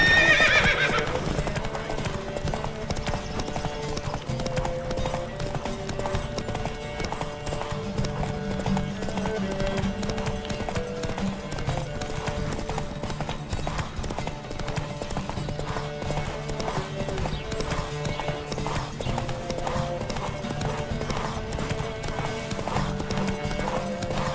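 Rapid, steady clip-clop of several horses galloping in a race in The Witcher 3 over layered music, with a horse whinny near the start.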